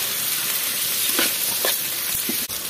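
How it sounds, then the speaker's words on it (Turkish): Eggplant frying in hot oil in a pan, a steady dense sizzle with occasional soft stirring scrapes, close and continuous with no talk. "Evet, patlıcanlarımız kızarmaya başladı"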